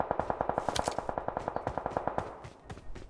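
A rapid burst of automatic gunfire in the video game PUBG Mobile, about twenty evenly spaced shots, then a few scattered single shots trailing off, somewhat distant.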